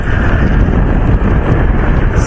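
A cold wind buffets the microphone during rain on a road toward Ramoji Film City in Hyderabad, a loud steady rumbling roar with no pauses.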